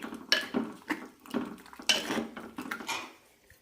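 A spoon stirs cabbage curry with cooked dal in a pot, making a series of close, rhythmic clinks and scrapes against the metal, about eight strokes in quick succession.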